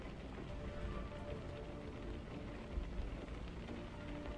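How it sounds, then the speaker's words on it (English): Steady rain falling in a truck driving simulator game, an even, dense patter of drops that holds the same level throughout with no voices. "I'll just have to live with the rain."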